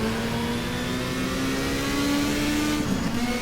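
Race car in the sim racing game GTR2, a 1987 WTCC touring car at Brno, accelerating with a steady rising engine drone throughout, close and loud, with a brief dip near the end as it shifts gear.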